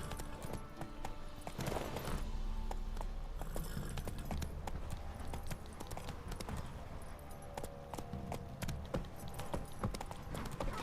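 Horse hooves clip-clop at a steady trot in The Witcher 3, with a jangle of tack layered over game ambience and background music at moderate volume.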